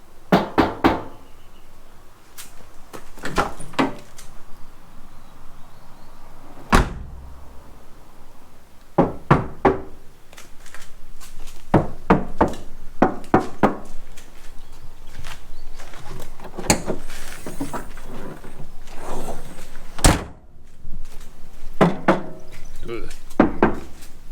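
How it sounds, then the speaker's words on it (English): Knuckles rap on the body panels of a Toyota Land Cruiser 60 series in quick clusters of sharp, hollow knocks with short pauses between them, and a voice talks now and then between the bursts. "knock test."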